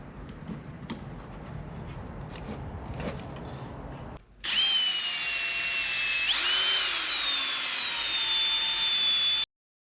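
Power drill honing the cylinder of a mini truck engine, starting abruptly after a few seconds of quiet background and running steadily with a high whining tone that shifts pitch midway, then cutting off.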